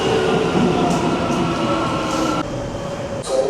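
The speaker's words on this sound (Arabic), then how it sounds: "وصلنا الحين المحطه، واضح يعني القطار ما وصل لانه وصل ومشي" An Istanbul metro train rumbles through a station with a steady, loud low roar and faint rail clatter, heard up close from the platform.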